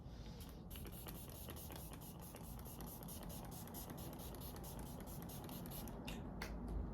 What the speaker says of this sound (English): More setting spray, of course.